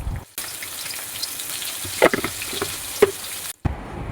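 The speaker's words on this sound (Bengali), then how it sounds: "কড়াইতে তেল দিয়ে আলুটা ভেজে নেব ভালো করে" Potato pieces sizzle and crackle steadily in hot oil in a wok, with a few clinks from stirring partway through and brief quiet gaps near the start and end.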